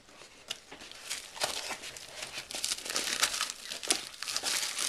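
Crinkly plastic packaging around a DaYan Megaminx speed cube is pulled open, giving continuous close crumpling and crackling with sharp tearing bursts throughout.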